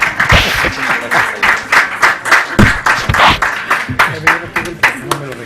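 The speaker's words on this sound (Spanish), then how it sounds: "se les da un aplauso a los colegas que nos ayudan" Applause for panelists at the close of an IFLA trends seminar session, loud clapping in uneven bursts mixed with voices and room noise close by.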